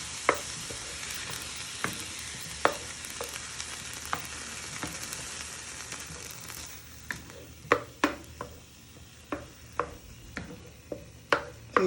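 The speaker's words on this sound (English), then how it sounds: "give that a little stir" Chicken and mushroom filling for ravioli sizzles steadily in a pan as a spoon scrapes and knocks against the bottom, the sharp taps growing more frequent toward the end, close by with no talking.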